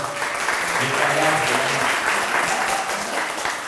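Applause for the children at a kindergarten graduation: a steady round of clapping from a gathered audience, with a voice faintly audible beneath it.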